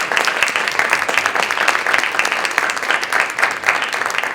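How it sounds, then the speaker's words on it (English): Sustained round of applause from the audience at a school committee meeting held in an elementary school, dense steady clapping filling the whole stretch at close range. "So a round of applause for Mrs. Dargan."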